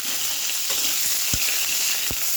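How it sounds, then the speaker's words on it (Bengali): Eggplant fries in hot oil with a loud, dense, steady sizzle close by, broken by a few low knocks that may be a utensil touching the pan, and nobody speaking. "বেগুনটা ভেজে নেব"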